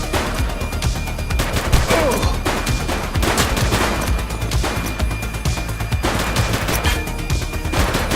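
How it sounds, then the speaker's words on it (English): Dense, continuous gunfire in the police game The Precinct, rapid overlapping shots and bursts close and loud throughout, with no break in the firing. "He's shooting!"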